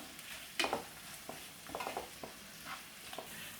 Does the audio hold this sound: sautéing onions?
yes